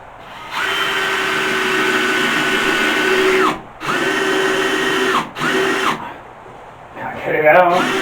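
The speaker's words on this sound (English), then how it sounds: "just drill through there" A power drill bores through wooden wall framing for a toilet wall, running in long whining bursts with brief pauses between them, then slowing near the end, with speech around the drilling.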